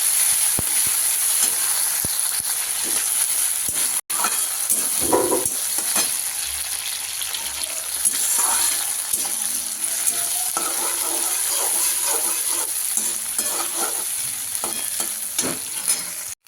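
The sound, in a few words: frying shrimp in a pan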